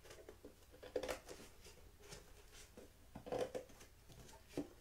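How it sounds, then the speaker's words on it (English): Scissors snip through a cardboard box while holes are cut in it for a children's cardboard-building craft, giving quiet, irregular crunchy snips and rustles close by with no talk over them. "But I'm going to go ahead and cut my holes out."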